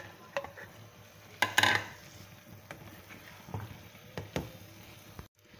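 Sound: stirring masala with a spoon while frying it

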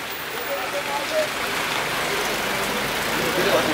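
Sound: rain

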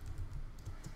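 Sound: typing on a computer keyboard

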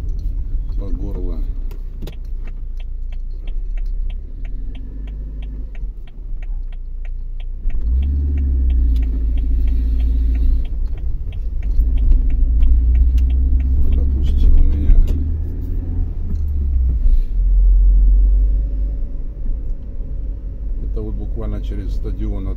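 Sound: cars driving through Minsk courtyards

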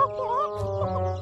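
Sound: chicks clucking in an Upin & Ipin cartoon

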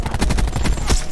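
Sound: gunfire from video game Black Ops 4

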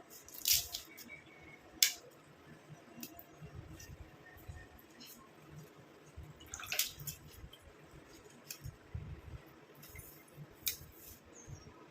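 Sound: tearing hibiscus leaves into a mixer jar

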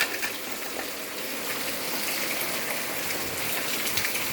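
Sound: rain and water draining

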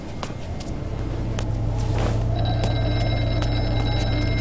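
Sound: telephone ringing in Horror Night VR video game

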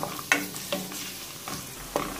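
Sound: frying onion and garlic in olive oil

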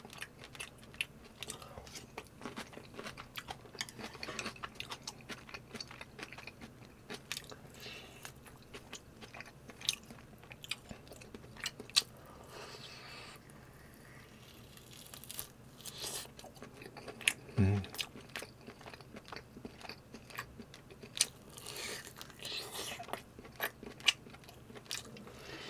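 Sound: chewing and tearing beef rib meat from galbitang

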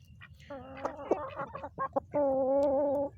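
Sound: chickens and rooster clucking

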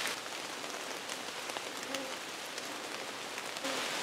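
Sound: rain falling in a forest

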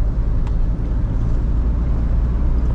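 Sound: Volkswagen T4 2.5 TDI van driving, engine sound

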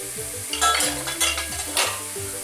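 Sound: stirring pasta in boiling water

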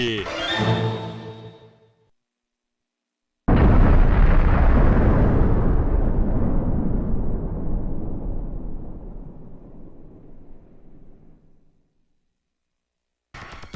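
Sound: Ultraman energy gun blast destroying a planet, explosion

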